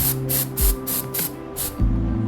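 WD40 is sprayed onto a motorbike chain in a run of about six short, sharp hissing bursts at close range over a low steady hum.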